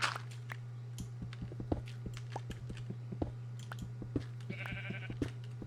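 Sheep bleating in the Minecraft video game, a few short game bleats over a steady low hum with light clicking and footstep-like taps, no talk.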